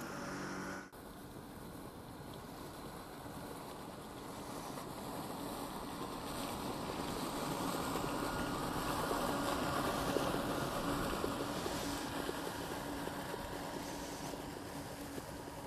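A Mammotion Luba 2 AWD robotic lawn mower drives its mowing laps across a garden lawn, giving a continuous low motor hum and whirr that grows slightly louder as it nears, with no talking.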